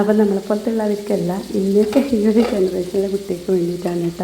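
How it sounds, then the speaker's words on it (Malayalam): Red spinach is stir-fried in a pan for a Kerala-style thoran, with a steady sizzle and stirring sounds running beneath continuous close talk. "രണ്ട് മൂന്ന് കറിവേപ്പിലയും കൂടി ഇട്ട് കൊടുത്ത് നന്നായിട്ടൊന്ന് വറുത്ത് കൊടുക്കുക"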